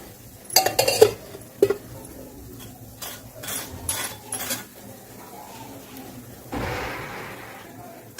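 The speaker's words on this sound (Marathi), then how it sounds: "हा पराठा पलटून घेऊया हलक्या हाताने पलटून घेऊया" Paratha being flipped in a hot pan with ghee, a few sharp clinks and scrapes of utensil against the pan early on, then softer shuffling and a steady low sizzle toward the end, with no talking.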